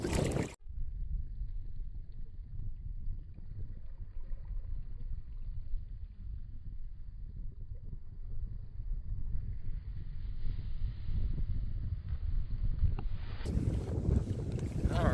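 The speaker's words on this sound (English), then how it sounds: "Looks like the wind's coming out of the east now" Wind buffeting the microphone during a kayak trip on the Intracoastal Waterway, a loud continuous low rumble that gusts and swells throughout, with faint water sounds beneath.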